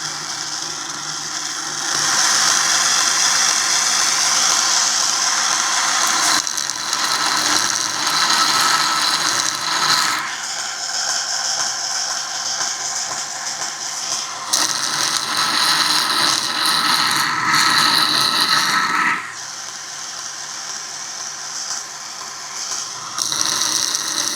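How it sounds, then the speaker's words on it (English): Belt grinder with a small wheel attachment shaping knife handle scales, a loud continuous motor whine with shifting pitch and harsh abrasive scratching as the workpiece is pressed on and eased off, dropping in level near the end. "I'm going to go ahead and do the small wheel attachment, clean this up in here"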